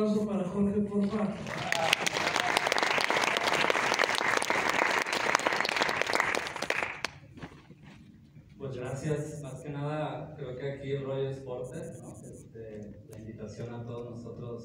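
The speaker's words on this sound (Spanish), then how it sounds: "Un aplauso para Jorge, por favor." An audience applauds for Jorge, a full burst of clapping lasting several seconds that stops abruptly, followed by someone talking.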